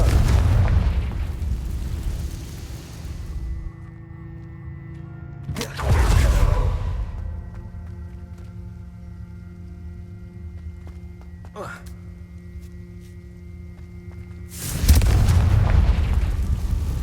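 Confringo fire spell blasts in Hogwarts Legacy sound as several loud booming explosions, spaced seconds apart, with a sharper crack in the middle. Quieter game ambience and a voice fill the gaps between the blasts.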